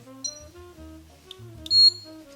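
A component tester beeps while testing capacitors from a Bose Wave Music System radio, thin and high-pitched, including a brief chirp and then a louder sustained tone, over a quiet background hum.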